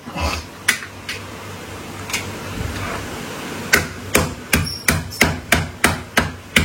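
Crab shells are pounded to crack them, a series of sharp, close hard knocks, sparse at first and then a quick regular run of about ten evenly spaced strikes, with no voices.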